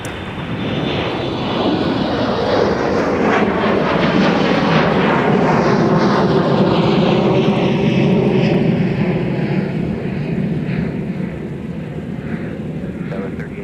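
An airliner takes off from runway 30 left at MSP airport, its jet engines swelling into a loud, sustained roar with sweeping pitch shifts as it passes close by, then easing slightly toward the end.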